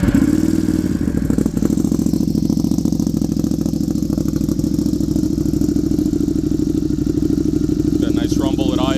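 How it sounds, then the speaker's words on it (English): A 2022 Ducati Panigale V2 with a Vandemon titanium exhaust idles close by with a steady, loud, throbbing rumble and light mechanical clatter, and a voice briefly cuts in near the end. "Rumble at idle without being too insanely loud."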